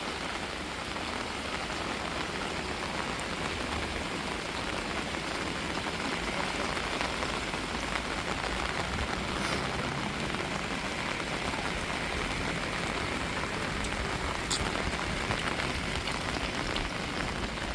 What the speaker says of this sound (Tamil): நல்ல மழை, ஒரு மழை அடிச்சிச்சு.